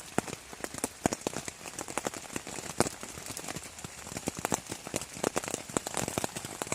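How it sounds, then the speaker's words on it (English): Rain falls on a rainy morning along the Appalachian Trail, with dense irregular drops tapping sharply on a nearby surface, likely a tent or tarp, over a steady wash of rainfall. "And another rainy morning."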